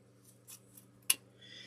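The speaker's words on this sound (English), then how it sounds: "I'm actually just going to trim this one up just a little bit." Scissors trimming the greenery on a grapevine wreath, a few light snips followed by one sharp, close cut, with faint rustling of the leaves afterward.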